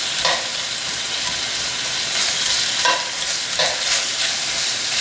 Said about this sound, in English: Let's caramelize some onions in here.